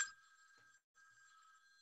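A telephone rings with an electronic trilling tone, two quiet bursts split by a short gap, clear and alone with no talk over it.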